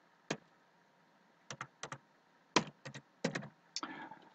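Short bursts of keystrokes on a computer keyboard while typing a title in Microsoft Word, a few clustered taps spaced apart, close and clear in a quiet room.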